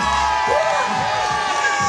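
A crowd at a bike stunt show cheers and whoops for a rider heading up the platforms, loud and sustained, with an announcer's voice and tonal music mixed in.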